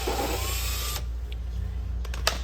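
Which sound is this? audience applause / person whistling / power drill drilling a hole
power drill drilling a hole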